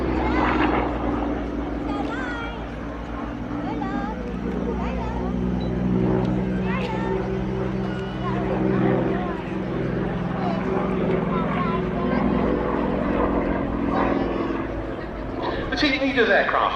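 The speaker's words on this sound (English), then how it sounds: "The team leader's aircraft now giving us a solo aerobatic slot, aerobatic competition category, solely for the Yak 52." A Yak 52 aerobatic aircraft flies a solo competition display at an airshow, its engine droning steadily throughout, loud and continuous beneath a commentator's voice.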